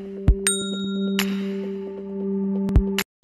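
A bright notification-bell sound effect rings out in a subscribe prompt: a few sharp metallic dings over a sustained, ringing electronic tone, ending abruptly.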